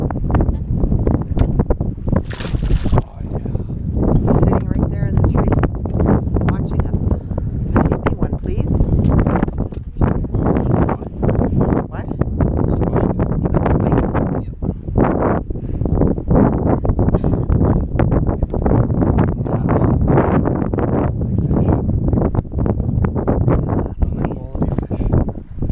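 Strong gusting wind buffets the microphone, roaring steadily throughout while a person talks over it.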